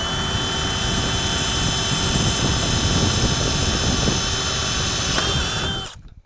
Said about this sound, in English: Go ahead and drill where it intersects in the center.